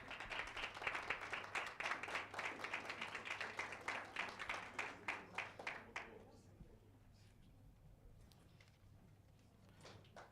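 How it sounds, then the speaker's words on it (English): Audience members at a media innovation summit at the University of Johannesburg clap for about six seconds, a dense run of individual handclaps that then stops abruptly, leaving a quiet room with a few faint knocks and rustles. "David, please clap."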